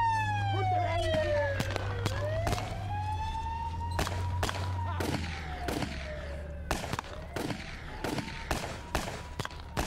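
A police car siren wails loudly in a sweeping rise and fall, joined by sharp cracking bangs like explosions or gunfire that grow more frequent as the siren fades, with a voice speaking over it.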